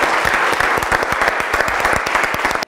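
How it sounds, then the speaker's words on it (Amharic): A studio audience on an Ethiopian game show claps in a dense, lively burst of applause that holds steady and then cuts off abruptly. "አጨብጭቡላችሁ"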